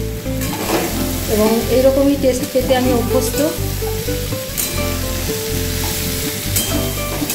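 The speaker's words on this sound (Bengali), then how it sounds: "ব্যাস, ধনে ভাজা হয়ে গেছে" Coriander frying hard in a hot pan, a loud steady sizzle with stirring scrapes throughout, while a person talks over it.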